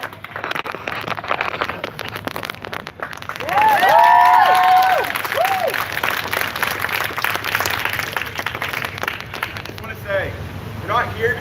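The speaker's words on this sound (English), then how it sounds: "I can hear the cheering" A protest crowd outside the Oregon Capitol cheers from a distance, the roar swelling midway over a steady wind rush, with nearby voices talking and shouting on top.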